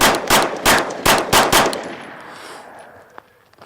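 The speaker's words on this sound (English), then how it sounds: "So let's get into my experience shooting this thing." Several shots from a Palmetto State Armory Dagger polymer pistol ring out in a quick string of about five sharp, loud reports, then a decaying echo and a faint clink.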